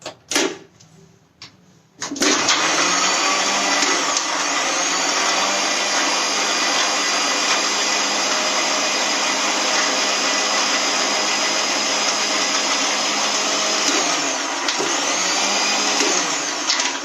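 Electric mixer blends milk, sugar and vanilla ice cream in a loud, steady whir that starts abruptly after a brief quiet moment and runs on without pause to the end.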